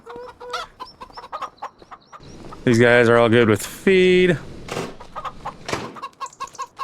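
Chickens cluck on a farm in the Farming Simulator 25 video game: short scattered clucks, then two loud drawn-out calls in the middle, all close and mixed with someone talking.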